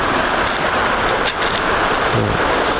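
Continuous rushing of a forest waterfall stream at Lan Sang National Park in Tak, cascading over rock tiers; a loud, close, broadband roar with no talk.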